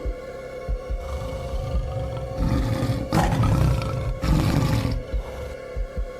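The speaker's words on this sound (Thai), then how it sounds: "เปล่งเสียงคำรามดังก้องคงไพร" A tiger gives a deep, rumbling roar that swells in two loud, powerful bursts over a low droning background, close and alone without speech.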